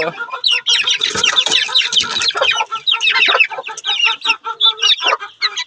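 A hen and her chicks on a backyard farm, with close, busy overlapping clucks from the hen and high chirping peeps from the chicks in a continuous chatter.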